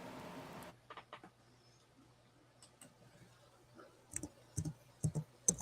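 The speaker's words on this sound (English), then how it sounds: "I hear Someone's typing." Sparse clicks of someone typing on a keyboard sound in short irregular bursts, faint and close, against a quiet room hum after a brief voice at the start.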